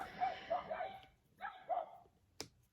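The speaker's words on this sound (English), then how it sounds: "I'm so sorry about my dogs." Dogs bark indoors, several short muffled barks in two clusters, moderately near, followed by a single sharp click.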